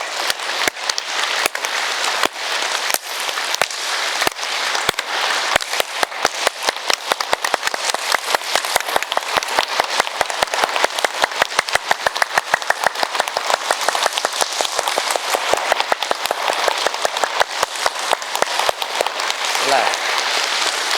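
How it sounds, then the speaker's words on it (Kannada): A group practising yoga clap therapy at a free International Yoga Day class claps hard and fast. The loud, sharp claps come in a tight, regular rhythm that runs on without break for about twenty seconds. "ಜೋರಾಗಿ ಚಪ್ಪಾಳೆ, ಜೋರಾಗಿ."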